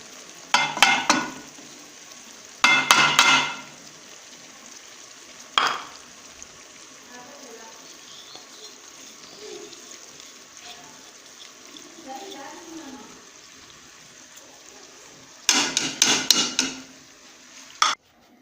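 Tomatoes being stirred in a cooking pot for chicken karahi: bursts of scraping and clattering from a utensil against the pot in several clusters, with a quieter simmering bed in between.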